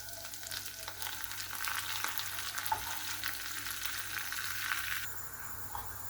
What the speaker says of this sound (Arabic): هنا حطينا الزبدة الذوب باش نبدو نحمرو في الكنافة نتاعنا.